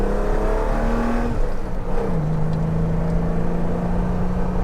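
A 1972 BMW 3.0 CSL classic road racer accelerates hard, its engine note loud and close, rising in pitch through the revs before a gear change drops it and it pulls steadily again.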